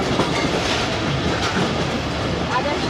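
A Hazara Express passenger train running between Bahawalpur and Nawabshah, Pakistan, rolls along the rails with a loud, steady rumble and a rhythmic clickety-clack of the wheels throughout.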